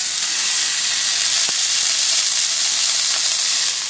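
Trout fillet frying skin-side down in a hot pan, a steady loud sizzle and hiss with a few small pops, close up and continuous.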